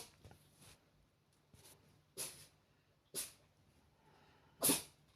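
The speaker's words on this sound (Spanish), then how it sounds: "Mi gato está estornudando y se escucha." Short sharp sneezes from a cat indoors, three distinct bursts spaced about a second apart with the last one loudest, preceded by soft snuffling breaths against a quiet background.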